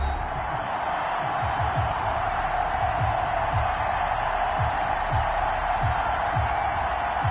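A steady stadium crowd roars without pause in an American football video game set at New England for the Cincinnati Bengals against the New England Patriots. Faint low thumps pulse beneath the dense, loud roar.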